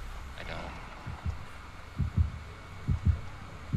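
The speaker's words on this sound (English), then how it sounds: "I hear heartbeats." The killer's heartbeat from the Dead by Daylight terror radius thumps in steady low double beats, several pairs in a row, faint and muffled under game ambience.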